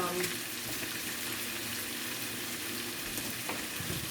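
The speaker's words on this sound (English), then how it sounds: "Okay, and this is frying. Let it fry some more" Steady, dense sizzling of vegetables frying in a pan for Jamaican ackee and saltfish, a continuous crackle with a few faint clinks, no voices.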